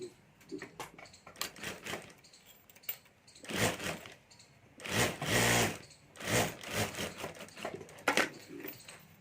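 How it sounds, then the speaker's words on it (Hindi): A sewing machine stitches a zip onto a pocket of a handmade multi-pocket fabric purse, running in short close bursts and longer whirring runs separated by pauses and light handling clicks. "और यहाँ हमें सिलाई करके जिप लगा देनी है। और अब यहाँ ऊपर एक सिलाई कर देनी है हमें।"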